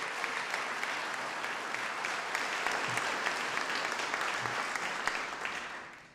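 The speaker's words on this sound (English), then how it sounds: "Let's give a round of applause for the Lemon Council." A luncheon audience applauds at a donor appreciation event for a Boys and Girls Club, a steady, dense wash of clapping that holds evenly for about six seconds before tapering slightly at the end, with no voices over it.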